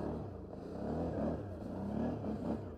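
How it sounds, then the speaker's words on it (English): A V-twin ATV engine revs up and down in steady surges, loud and close, with a deep rumbling tone and no talking, outdoors in snow. "It's hard not to get on the throttle on a V-twin. They just sound so good"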